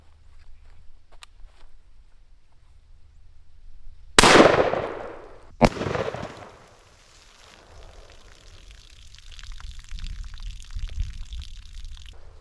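A 12-gauge Stoeger Double Defense side-by-side shotgun fires birdshot at a 2-liter bottle outdoors, giving one loud sharp blast followed by a second crack about a second later, then rumbling noise that trails off.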